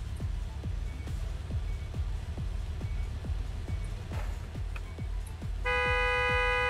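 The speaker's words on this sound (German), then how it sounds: "Jetzt hört doch mal das Hupen auf" In a gas station simulator game, a car horn blares in a steady tone near the end, over a rhythmic run of repeated low thumps and engine noise from the forecourt.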